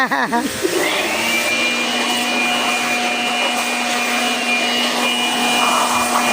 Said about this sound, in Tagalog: May dala na kayong blower ngayon